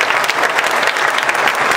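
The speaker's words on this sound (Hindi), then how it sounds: "एक बार ऐसे ताली बजाएं प्रभु के लिए जिसे आज तक आपने कभी नहीं बजाया।" Worship congregation at a musical church event clapping hands together in a brief, loud, close burst of many overlapping claps.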